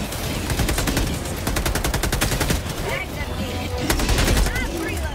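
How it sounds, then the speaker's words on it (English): Automatic rifle gunfire in the co-op shooter Helldivers 2, rapid bursts of shots crackling loud and close amid dense game noise, with a brief pause before another burst. "this rifle kind of sucks"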